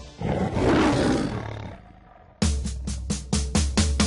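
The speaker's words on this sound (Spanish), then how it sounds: "Dime si tú sabes cómo hace el león, vamos a escucharlo tú y yo." A lion gives a deep, loud roar, then a series of five or six shorter grunting roars repeat in a steady rhythm, close and alone without talk.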